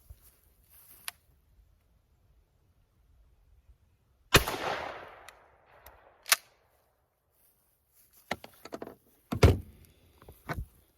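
A single 12 gauge shotgun blast fired through a Kicks extra full choke at a target 20 yards away, one sharp loud report followed by a brief decay, then clicks and handling noises in an otherwise quiet setting.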